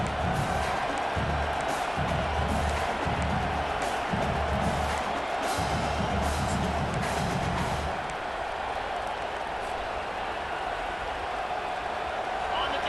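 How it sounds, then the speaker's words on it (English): A stadium crowd roars on a third down in the College Football 25 game's national championship, a dense constant wall of cheering with rhythmic low thumping in the first half that fades as the noise carries on alone. "3rd down, and the crowd really getting into it"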